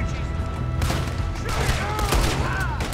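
Rapid gunfire in Red Dead Redemption 2 during a train robbery in the Wild West, dense overlapping shots and booming reports over a loud rumbling train bed, with someone talking over the action.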